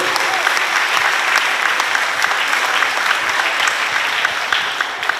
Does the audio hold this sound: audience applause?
yes